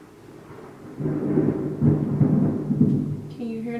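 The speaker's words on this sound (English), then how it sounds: "Can you hear the thunder?" A low rumble of thunder rolls in softly and swells for a few seconds, distant and muffled, ending with a faint tonal sound.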